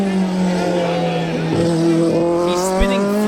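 A Group B rally car racing past and spitting flames from its side, its engine a loud, sustained high-revving roar that holds steady with slight pitch shifts.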